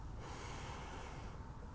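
A single long, deep breath drawn and released steadily, close and clear, with a soft airy rush throughout and no talking.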